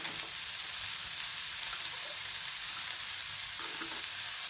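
Onion, dried chilli, tomato and chopped nookal sautéing in a pan for chutney, a dense continuous sizzle with stirring, close and steady, with no voices.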